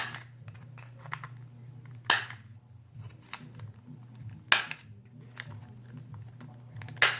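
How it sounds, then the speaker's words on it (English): A corner rounder punches through card stock notebook covers with three sharp, loud snaps spaced a couple of seconds apart. Small clicks and handling rustles sit between them over a faint steady hum. "Now that we have our covers, we're going to go ahead and round our corners"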